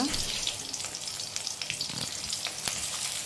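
Chopped onions and garlic sizzling in two spoons of hot oil in a kadai, a close, continuous frying hiss with faint stirring clicks, no talk over it.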